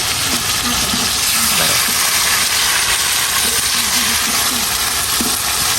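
Pieces of boal fish go into hot oil and spices in a pan, giving a steady loud sizzle and hiss throughout, with faint background noises underneath.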